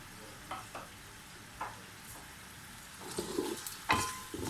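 Onions brown in oil with cumin, bay leaf, cardamom, cloves, black pepper and cinnamon for biryani, a soft, close sizzle punctuated by a few spoon scrapes and stirs that grow louder toward the end.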